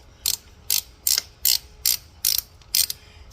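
Ratchet wrench tightening a bolt on a Harley-Davidson Sportster rear brake pedal: seven short, crisp clicking bursts in a steady rhythm, close and fairly quiet, with no talk.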